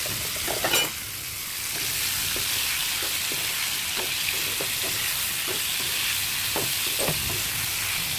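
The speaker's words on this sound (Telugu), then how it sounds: "కొంచెం ఉప్పు అలాగే పసుపు వేసి ఒకసారి కలుపుకొని మూత పెట్టుకుందాం" Bitter gourd and onion curry with salt and turmeric sizzles in a pan. A continuous frying hiss runs under repeated soft scrapes and taps as it is stirred.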